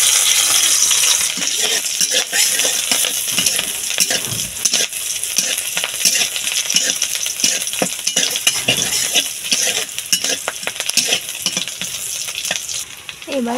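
Chopped chillies and onions frying in hot oil in a pan for a fish curry, a loud continuous sizzle with crackles and occasional utensil clinks, close and unbroken by speech.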